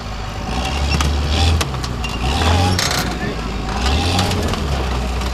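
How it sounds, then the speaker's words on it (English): The Iron Reaper monster truck, a tank formerly called the Star Tracks tank, runs its engine at a show, rising and falling in loud revving surges amid crowd noise, with a commentator talking over it. "This truck, formerly known as the Star Tracks tank, putting a devouring showing on for the monster truck fans at the Gas Guzzy event."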